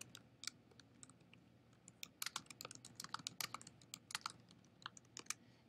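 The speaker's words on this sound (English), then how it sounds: "I can type something out here" Close, quick bursts of irregular clicking from typing on a computer keyboard, with keystrokes of varying loudness clustering into rapid runs and brief pauses, and no voices.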